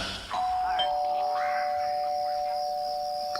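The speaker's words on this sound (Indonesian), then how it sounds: "terdengar suara bel" A doorbell at the front gate of a dormitory rings with a sustained electronic ding-dong tone that holds steady and clear, close and loud, with faint background sounds beneath.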